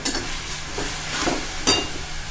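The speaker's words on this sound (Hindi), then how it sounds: "चटनी फ्राई होना शुरू हो रही है। अब हमें इसे हिलाते रहना है बिना रुके, धीमे आंच पर, मीडियम फ्लेम।" Dried bombil fish chutney with green chillies frying in a pan over a medium flame, a steady close sizzle broken by repeated scraping strokes of a spoon stirring it, with no voices.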